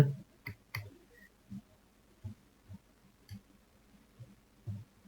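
Computer mouse clicks while working in Revit on a toposurface, about ten short separate clicks spaced roughly half a second apart, close and crisp in an otherwise quiet room.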